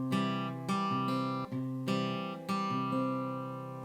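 An acoustic guitar fingerpicks the chords of a song at a slightly quicker tempo, with clear plucked notes and chord changes ringing close up and played alone.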